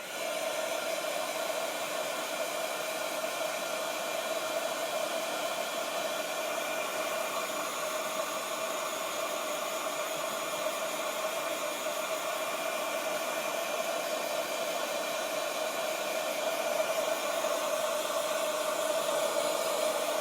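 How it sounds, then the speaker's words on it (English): A handheld dryer blows over wet chalk paste on a t-shirt, a loud, steady whirring roar that runs unbroken and alone throughout. "So I'm going to continue drying this for a few more seconds, trying to get this all dry before we move on."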